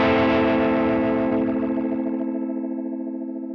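A single strummed electric guitar chord rings out through a Line 6 Helix modulation effect with a quick rise time, sustaining with a shimmering, wavering texture and slowly decaying, heard alone.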